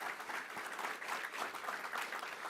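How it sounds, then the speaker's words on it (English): Audience applause at a governor's announcement event for a Rochester airport passenger project, a steady wash of clapping from a crowd heard at moderate distance without speech over it. "Let's give them a round of applause as well."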